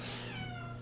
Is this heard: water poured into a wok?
no